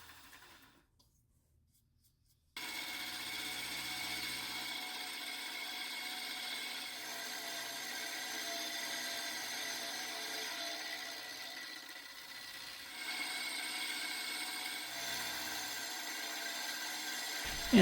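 Steady mechanical cutting noise from a 10 thou machining pass across the lands of a model steam engine base casting, running continuously for most of the stretch after a short quiet opening, with a slight rise near the end.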